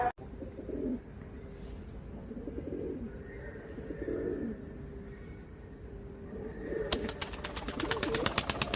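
Soft, low cooing from tumbler pigeons repeats in a few rounds over a steady background hum, followed near the end by a rapid clicking or flapping burst.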